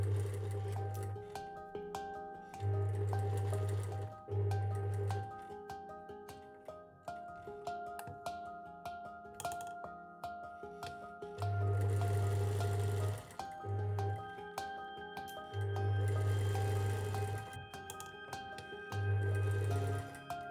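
A sewing machine stitches a seam in repeated short runs, its low motor whirr starting and stopping in bursts over steady background music.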